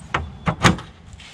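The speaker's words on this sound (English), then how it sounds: "As you can see, it's a louvered door" A louvered compartment door on a DIY square drop camper trailer, handled with three quick knocking clunks in close succession, near and moderately loud.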